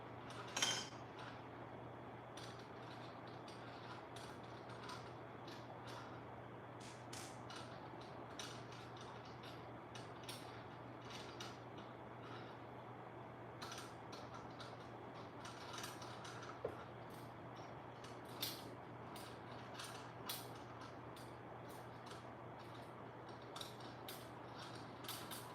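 Screws are driven partway into parts of a FYSETC LH Sting bedslinger 3D printer during assembly. Faint, scattered ratcheting clicks and small metallic ticks come from close by against a quiet room hum.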